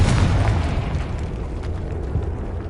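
A Confringo blasting spell going off in Hogwarts Legacy: a loud, booming explosion that rumbles on with a dense, rolling roar which fades only slightly over a few seconds.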